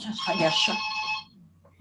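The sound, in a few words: telephone ringing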